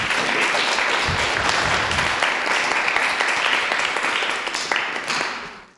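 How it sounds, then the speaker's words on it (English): Attendees at a city commission meeting applaud standing veterans, a loud, dense round of many people clapping that holds steady and then tapers off at the end. "let's give them an applause."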